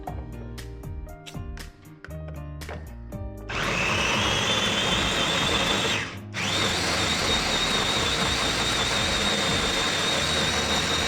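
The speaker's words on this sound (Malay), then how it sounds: "So kita blend ya." A small multi-function kitchen blender whirs loudly, blending boiled chicken heads with vegetables. Short clicks and taps come first, then the motor runs steadily, dips for a moment near the middle and starts again.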